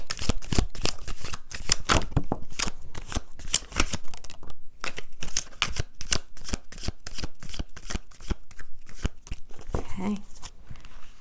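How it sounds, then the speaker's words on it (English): Tarot cards being shuffled by hand, a rapid run of crisp riffling flicks and slaps in close, steady bursts that continue for several seconds with brief pauses between them. "Let's just pull a few tarot and then see what we have."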